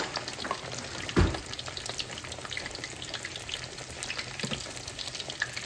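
Whiting fish frying in a pan, a steady crackling sizzle with scattered pops and one brief louder thump near the start, close and continuous without talk.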